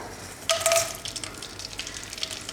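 Dried round red chilies drop into a hot mix of oil and ghee, bringing a sharp sizzling burst followed by a steady, softer crackle heard close by.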